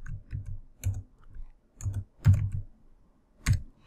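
Computer keyboard typing of code: clusters of close, crisp key clicks in an irregular rhythm, with brief pauses between bursts.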